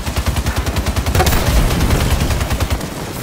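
Rapid automatic cannon fire from a Wasp aerial vehicle in the video game Halo 5, a steady rattling stream of close, loud shots that swells into a denser burst midway and carries on without pause.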